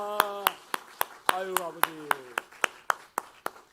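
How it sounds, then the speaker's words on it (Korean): A church congregation clapping hands in praise, sharp claps at a steady rhythm roughly every quarter second, with a voice speaking and singing over them. "우리 아버지 하나님께 박수로 영광을 올려드리겠습니다."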